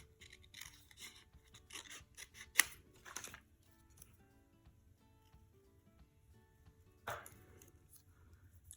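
Scissors snipping out paper tags for a Christmas scrapbook page kit, a series of quiet close crisp cuts in small clusters with pauses between, one sharper snip standing out, no talking.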